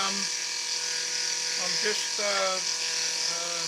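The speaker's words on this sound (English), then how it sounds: "milling the excess material to come out of the center slot here, the trough" A milling machine cuts excess material from a central trough slot, giving a steady, close, high-pitched whine with shifting tonal harmonics, while someone talks over it throughout.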